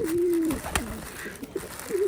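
Old-breed Khulna high-flying pigeons coo nearby: a sustained low coo at the start, a short one around midway and another at the end, with a sharp click and soft background rustle between.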